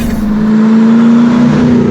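A 2007 Cadillac CTS-V sports sedan engine holds a steady, loud revving drone with a strong humming tone, close up and continuous, with no talking.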